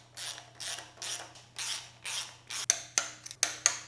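A hand ratchet turns in a steady series of short, quiet strokes with sharper clicks near the end, torquing anti-seize-coated bolts during final assembly of a Datsun 260Z engine. A faint low hum runs underneath, with no talking.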